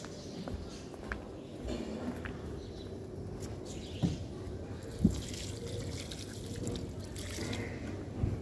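Water trickles faintly while dried-out potted plants are watered, with a few soft drips and splashes over a quiet, steady background.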